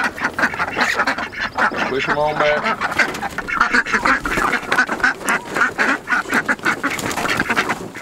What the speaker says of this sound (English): this right here is one of the champion, or the champion, egg laying ducks. Khaki Campbell.